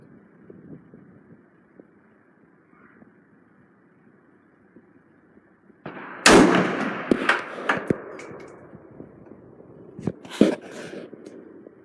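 Gunshots at an outdoor shooting range: after a quiet stretch with faint background hum, one loud sharp crack rings out, followed by scattered clanks and a second shot some seconds later.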